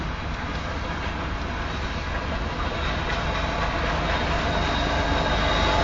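A southbound Union Pacific grain train of 115 cars and three engines passes at about 28 mph on the Spine Line near Elkhart, Iowa, with a loud continuous rumble and rhythmic clickety-clack building steadily closer.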